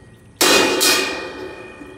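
A single sharp strike on a Meinl 18-inch Soundcaster crash cymbal, a bright loud wash that bursts in abruptly and rings on, slowly decaying, close up and alone.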